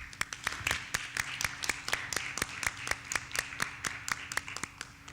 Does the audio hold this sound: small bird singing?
no